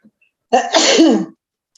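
A single sharp sneeze sounds close by in a quiet room, with silence before and after.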